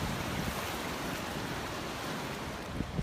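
Ocean surf washing along the rocky Kaloko Honokōhau shoreline in Hawaii, a steady broadband roar of breaking waves with light wind buffeting the microphone and no voices.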